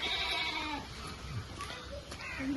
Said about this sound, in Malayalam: ഇതാ എന്റെ ആട്? എന്റെ ആട് ഇതാ?